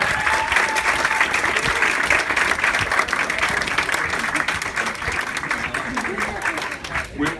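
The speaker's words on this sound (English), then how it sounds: "give a big round of applause for your parents for helping you" Parents at a Mira Costa wrestling banquet receive a sustained round of clapping from the room, dense and steady throughout with a few voices mixed in.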